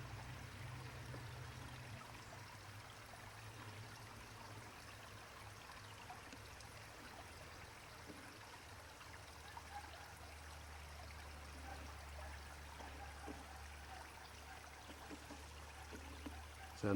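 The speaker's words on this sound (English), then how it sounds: "So there's the creek, that's the bigger creek." A creek flowing near a broken-through dam and a road bridge, a faint, steady wash of running water heard alone throughout, with a low rumble underneath.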